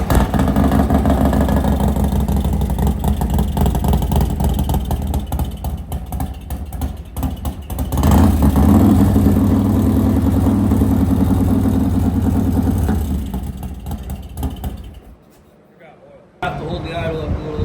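A 2024 Harley-Davidson Road Glide engine running close and loud, a rough throbbing idle that swells with blips of revving, then drops away briefly before picking back up.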